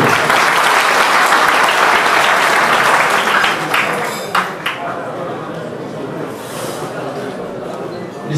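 Loud, sustained audience applause welcoming a speaker to the stage at an iftar gathering of the Adıyaman Teşikan village solidarity association, filling the hall for several seconds before thinning out, with faint clinks of dishes and background chatter.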